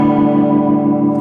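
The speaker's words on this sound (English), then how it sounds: "This is a blend of, you can see it's a blend of chorus and vibrato." A guitar plays through a blended chorus and vibrato effect, producing a sustained, wobbling chord that holds at a steady volume for just over a second, with no talking.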